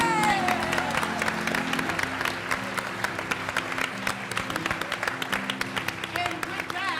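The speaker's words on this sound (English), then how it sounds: "A big round of applause" Enthusiastic crowd applause with scattered cheers, steady clapping throughout, with some voices mixed in beneath.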